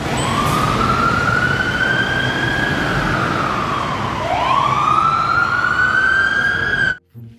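A toy fire engine's siren wails in long rising and falling sweeps, loud and close, with a short break before a second sweep.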